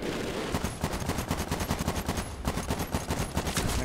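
Rapid automatic gunfire in the shooter game Medal of Honor Warfighter, a loud, continuous stream of closely spaced shots in steady bursts that continue throughout.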